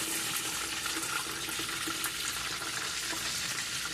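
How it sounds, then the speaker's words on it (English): Large pieces of fish fillet frying in hot oil for a copycat McDonald's Filet-O-Fish, a loud, steady, close crackling sizzle that runs evenly throughout without talk. "I'm trying to get it to fry on the side so we can get all sides crispy and good."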